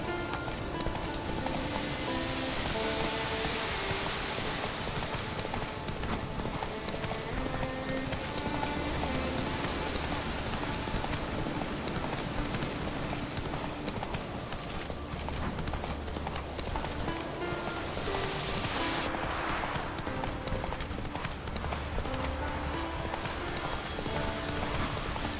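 Horse hooves beat a steady galloping clip-clop through rain in The Witcher 3: Wild Hunt, a continuous loud rhythmic patter over hissing rainfall with occasional low rumbles, no voices.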